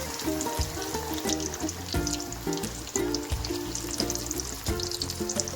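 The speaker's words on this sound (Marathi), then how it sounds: "त्याला बी तसंच फ्राय करून घ्यायचा." Village-style fish fries in a pan of hot oil, giving a steady, crackling sizzle with small pops and stirring scrapes throughout, alone with no voices.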